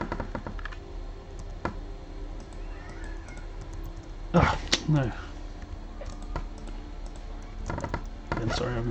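Keys on a computer keyboard click in scattered, quiet taps with a brief louder flurry midway, heard close against a faint room hum while a person briefly speaks.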